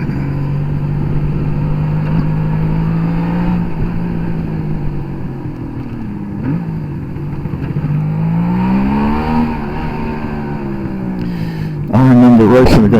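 A Suzuki GT750A motorcycle engine on a road test, the steady drone shifting pitch as it accelerates and slows, ending in a louder burst of revving, with someone talking over it.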